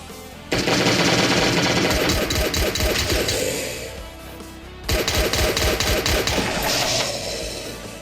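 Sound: gunfire in video game Last Day on Earth

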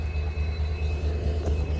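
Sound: train

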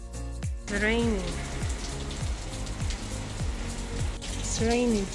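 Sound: rain falling

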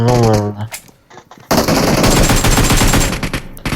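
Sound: machine gun fire in the video game PUBG

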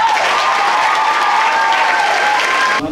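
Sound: audience applause at a band concert

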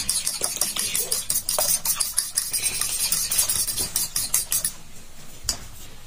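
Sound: beating eggs with a knife

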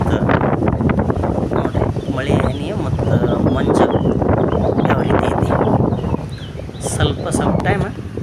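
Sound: wind

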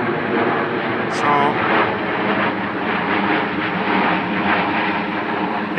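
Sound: jet aircraft flying overhead

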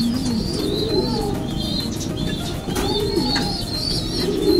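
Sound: racing pigeons cooing

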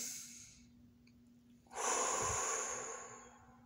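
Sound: breathing after singing

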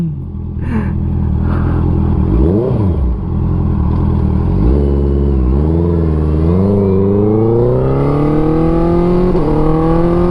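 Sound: Honda CB650F motorcycle engine revving while riding

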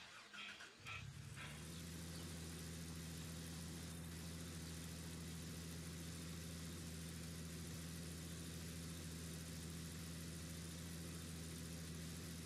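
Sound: vehicle engine driving to the shop, from the video game Gold Rush

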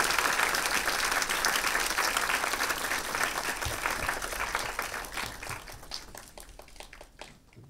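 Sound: audience applause welcoming speakers

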